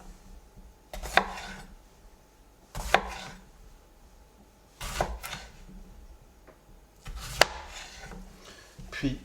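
A knife chops bell peppers on a board for piperade, with four or five sharp, distinct cuts spaced a couple of seconds apart, close and clear over faint background noise.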